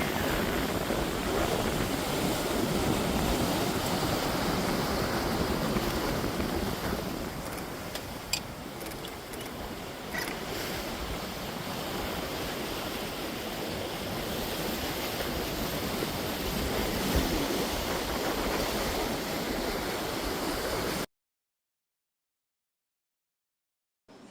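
A racing yacht rounds St. Martin in a 20-knot breeze during the RORC Caribbean 600, heard as a loud, continuous rush of wind and water that cuts off abruptly near the end.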